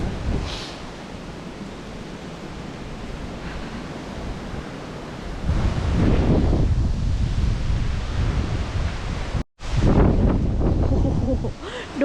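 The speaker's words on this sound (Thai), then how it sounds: "ความลมแรง" Strong wind gusts buffet the microphone on the Pico das Pedras hiking trail in Santana, Madeira, a steady roaring rush that swells louder midway and briefly drops out before resuming.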